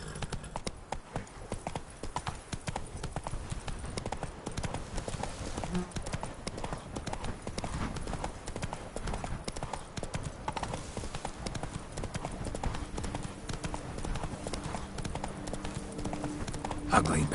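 Roach the horse's hooves clip-clop steadily and close in The Witcher 3 Blood and Wine, a continuous trotting rhythm running the whole time, with a voice speaking briefly over it.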